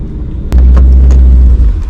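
A Dodge Hellcat launches on a full-throttle drag pass, a sudden, loud, deep engine roar that sustains close by for over a second before easing.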